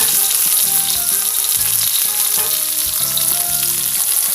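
Carrot, bell pepper, tomato, scallion and ginger sizzling loudly in a pan for sweet and sour gourami, a constant bright hiss of frying with faint low tones beneath, no voices.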